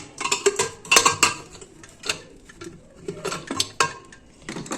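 Boiled leafy greens are stirred in a home-kitchen wok, with bursts of sharp metallic clinks and scrapes from a utensil against the pan, clustered irregularly with brief quiet gaps between them.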